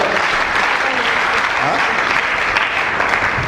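A church congregation clapping and cheering, a loud sustained wash of applause from a full room that keeps going throughout.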